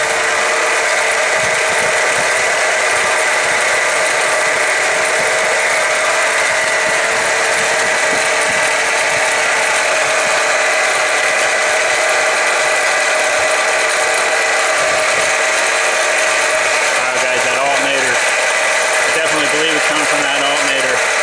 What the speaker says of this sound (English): Coming from that alternator.